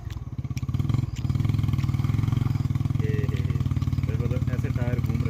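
A motorcycle engine labours and revs as its tires spin on landslide debris covering a Garhwal mountain road; a loud, steady, close engine drone runs throughout with voices faintly in the background.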